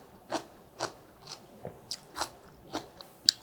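Someone bites and chews a Cheongyang chili pepper alongside cabbage water kimchi, giving a series of close, crisp crunches at a steady rhythm, about eight sharp bites and chews with quiet between them.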